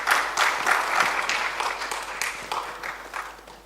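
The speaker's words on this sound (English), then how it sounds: "Let's give our panelists a big round of applause before we start off." An audience at a governance summit applauds its panelists: a dense, even wash of clapping that starts loud and slowly thins out, with no talking over it.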